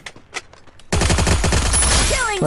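Gunfire in a mobile shooter video game: quiet sparse clicks, then a sudden loud sustained burst of rapid automatic shots with ringing electronic effects for the rest of the clip.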